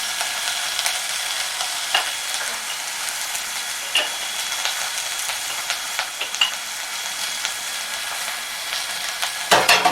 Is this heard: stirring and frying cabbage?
yes